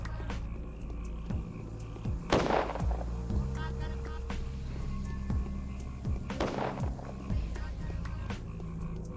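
Two sharp, booming gunshots in the video game Pathologic, spaced a few seconds apart, over a steady low hum of in-game music and ambience.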